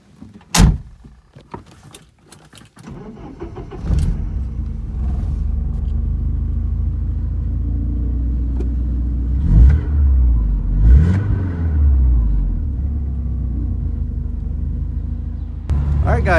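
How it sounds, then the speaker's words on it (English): Silver 1987 Porsche 944 on a test drive: a few door and interior clunks at first, then the engine starts and settles into a steady low rumble with a couple of revving swells, before another clunk at the end. "here in a second, I'll take you on a test drive and we'll see how she runs"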